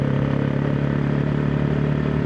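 Engine of a Hero Xpulse 210 motorcycle running steadily while riding in fifth gear, a loud, continuous mid-pitched drone with a constant hum and no talking.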